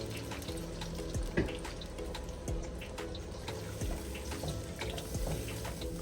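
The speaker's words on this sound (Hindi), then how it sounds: "अब मैं इसके अंदर डालती हूँ पानी" Water poured into a pot of spiced tomato masala for pulao, a continuous splashing, trickling stream with occasional bubbling and clinks, close and steady with no voices.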